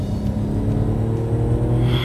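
Porsche 911 Turbo engine pulling hard as the turbo comes on boost, a loud, steady, close-up rumble rising in intensity over about two seconds with no voices.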